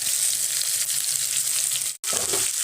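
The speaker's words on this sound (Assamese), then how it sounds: "এতিয়া মই তেলত দিম এয়া কাটি থোৱা পিয়াজ আৰু জলকীয়াখিনি" Chopped onion and green chillies hitting hot oil, a steady loud hiss of frying that cuts out for an instant and resumes with a softer crackle.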